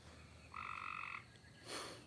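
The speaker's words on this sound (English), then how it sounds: "I'd much rather hear the tree frogs." A single tree frog gives one sustained, buzzy croak lasting about a second, followed by a brief rustle; no voices.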